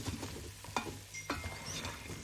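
Curry powder and dry spices fry in a pan for lamb spinach curry, giving a soft continuous sizzle with a few scraping stirs of a spoon.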